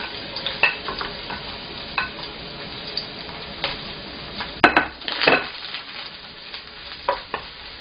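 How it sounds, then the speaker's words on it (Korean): Onions and carrots sizzle in a hot frying pan while being stirred, with a steady fry hiss broken by clattering utensil scrapes and clinks, close and fairly loud, no voices. "자, 후라이팬이 달궈지면요. 양파나 당근 먼저 넣어주세요."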